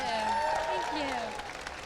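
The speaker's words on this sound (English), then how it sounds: "A round of applause," An audience claps in a steady round of applause at an MCM Scotland convention interview, loud at first and then tapering, while someone speaks over it.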